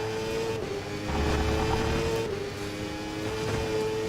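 A racing car in a video game, driven on a racing wheel, holds a steady engine drone through a corner, with a faint tyre squeal and slight shifts in revs, heard alone.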